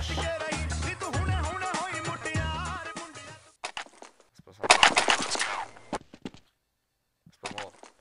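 Paintball guns firing in rapid bursts during a Counter-Strike 1.6 match, sharp repeated shots clustered in a dense volley, then scattered single pops after short pauses.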